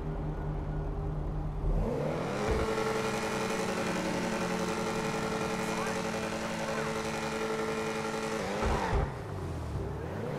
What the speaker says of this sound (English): I'm going to let you guys listen to the actual engine sound